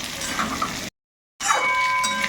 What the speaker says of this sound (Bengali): তো এই যে এখন এই পটল, আলু একসঙ্গে ভালো করে একটু কষিয়ে নেব।